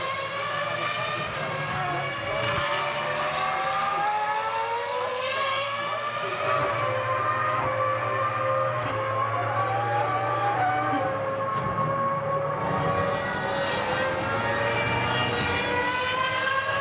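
Michael Schumacher's Ferrari Formula 1 car screams around the circuit at the 2000 European Grand Prix, a loud sustained high-revving engine wail with rising and falling pitch as it shifts gears, continuous throughout under crowd and track noise.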